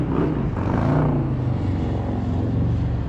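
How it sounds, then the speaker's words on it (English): A loud motorcycle passes along a street during a walk in Maine, its engine roaring close by and then fading out over a few seconds, with no talking heard. "I always seem to get a loud motorcycle when I start talking."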